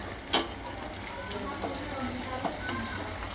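Herbs stirred into oil heating in a pan for homemade hair oil, a soft steady sizzle with a sharp clink near the start and faint scraping strokes.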